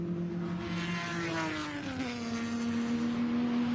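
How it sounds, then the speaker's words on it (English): Vintage race cars contest the Lavant Cup at Goodwood SpeedWeek 2020, one engine wailing loudly nearby with a clear tone that drops in pitch as it passes, over a broad roar of other cars. "Great noise all these cars make"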